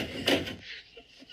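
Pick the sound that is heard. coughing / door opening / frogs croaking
door opening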